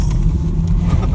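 A Toyota Camry engine drones loud and low as the car pushes off-road through mud, a steady rumble close by with no talking.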